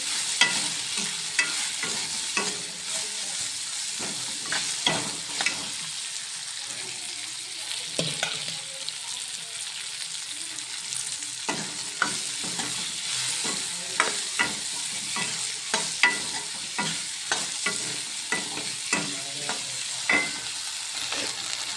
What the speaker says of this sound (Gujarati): તો હવે આપણે એમાં ભીંડા એડ કરીશું થોડા થોડા એડ કરતા જેવું મિક્સ કરી લેવાના છે